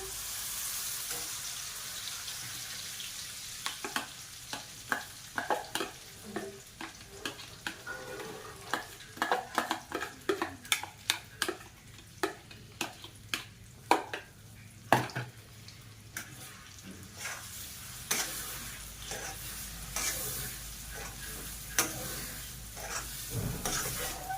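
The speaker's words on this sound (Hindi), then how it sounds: "ये दाल अच्छे से फ्राई हो जाएगी और चिपकेगी भी नहीं" Dal frying in an iron kadhai while a spoon stirs it, a soft continuous sizzle broken by many quick scraping knocks in an uneven rhythm, growing busier midway, faint and close.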